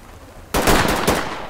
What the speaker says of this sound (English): Immediate gunfire here.